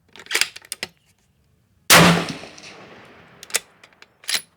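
A Howa 1500 rifle in 6.5 Creedmoor with a muzzle brake fires one sharp, loud report under a canopy, followed by a long decaying echo, with a few small clicks and clanks of handling before and after.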